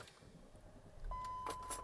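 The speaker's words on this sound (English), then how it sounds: "what's that beep?" A single steady electronic warning tone sounds from a Range Rover L322, preceded by quiet rustling and faint mechanical clicks.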